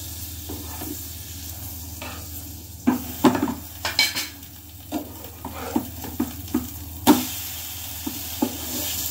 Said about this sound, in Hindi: तो इसको अच्छे से जो है हम सेक लेंगे, जब तक कि इसका कलर चेंज ना हो जाए। और मैं बटर भी डालूंगी।